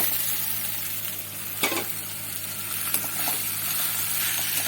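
Water spinach being stir-fried in a pan with potato and jackfruit seeds, giving a steady close sizzle with a few sharp clatters of stirring and no voices.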